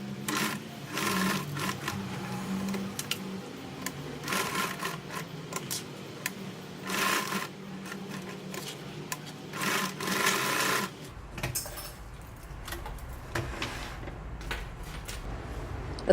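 A sewing machine stitches down the folded ends of a bag strap, running in short bursts of close, steady chattering with pauses in between and no voices.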